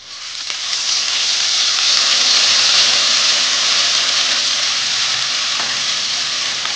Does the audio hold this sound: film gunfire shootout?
no